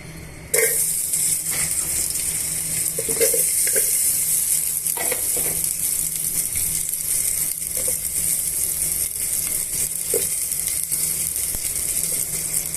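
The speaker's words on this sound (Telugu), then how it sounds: "ఆయిల్ బాగా వేడెక్కిన తర్వాత తరిగి పెట్టుకున్న ఉల్లిపాయ ముక్కల్ని పచ్చిమిరపకాయ ముక్కల్ని యాడ్ చేసుకోవాలండి" Chopped onions and green chillies go into hot oil for a mutton biryani base and burst into a loud, continuous sizzle, with stirring clatter breaking through at intervals.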